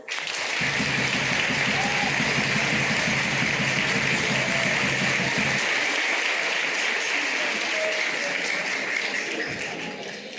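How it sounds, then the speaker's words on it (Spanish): An audience at a children's folklore festival in Losar de la Vera applauds the folk group Zangaena de Río Lobo. The clapping is sustained and dense, with a low rhythmic tapping under the first half that drops out as the applause fades. "un aplauso para los amigos de Zangaena de Río Lobo"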